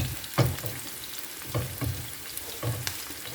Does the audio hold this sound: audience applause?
no